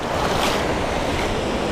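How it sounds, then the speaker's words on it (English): Turbulent creek water churns just below a dam in downtown Prattville, Alabama, a steady broadband rush that is loud and close, with no voices. "all this churning water right underneath the dam"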